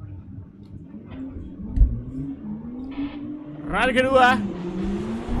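Toyota AE86 drift car on a second drift run at an Indonesian Drift Series pro-class event, its engine rising and falling in pitch with a sharp burst of revving near the end, under a commentator's voice.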